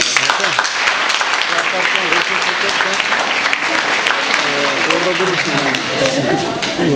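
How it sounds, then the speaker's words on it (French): A crowd at a school diploma ceremony gives steady, loud applause for an honored pupil, dense clapping filling the whole clip with voices audible beneath it. "Applaudissons Marco Fabrice."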